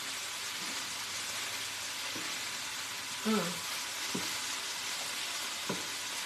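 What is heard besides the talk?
food sizzling in a pan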